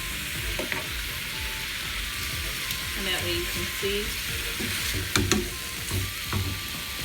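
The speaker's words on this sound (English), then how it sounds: "This is the last set of ribs that I'm frying." Steady sizzling of pork ribs frying in a pan, with occasional louder pops and scrapes as pieces are turned, and a voice talking over it.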